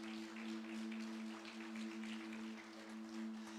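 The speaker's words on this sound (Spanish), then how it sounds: "Vamos a darles un aplauso a ellos que van a hacer el desafío de Navidad" Audience applause during a church sermon, steady and fairly faint throughout, with a low constant hum underneath and no talking.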